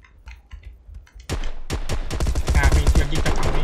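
Video game gunfire heard through a Creative Sound BlasterX G1, starting with faint scattered clicks and then breaking into sharp, rapid bursts of shots that continue densely to the end.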